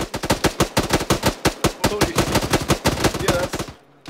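Rapid automatic gunfire from a firefight in the Arma 3 video game, loud and close, a steady rhythmic stream of shots that cuts off abruptly near the end, with no speech.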